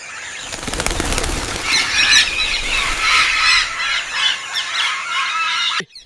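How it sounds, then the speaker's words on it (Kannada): Loud, continuous flurry of wing flapping as a flock of parrots takes off from farmland, with shrill squawks over the beating wings, ending abruptly. "ನೋಡಿ ನೋಡಿ, ಔಷಧದ ವಾಸನೆ ತಡೆಯಲಾರದೆ ಗಿಳಿಗಳು ಹೇಗೆ ಓಡಿ ಹೋಗ್ತಿವೆ"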